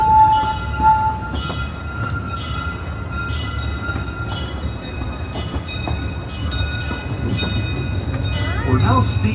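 A Disneyland Railroad train rolls along at steady pace, with a continuous low rumble of wheels and cars under occasional passenger chatter and a brief whistle-like tone near the start.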